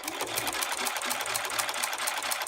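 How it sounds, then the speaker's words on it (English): A sewing machine runs a straight stitch down the middle of fold-over elastic on fabric, a fast, even, rapid clatter of needle strokes held steady and close throughout. "we're just going to try to sew right down the middle here"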